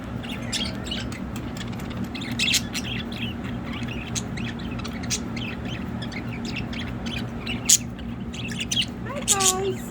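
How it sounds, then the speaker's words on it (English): Pet budgies chirp and squawk outdoors while waiting for a shower, scattered bright calls over a steady low background hum, with someone speaking intermittently. "Ah, budgies."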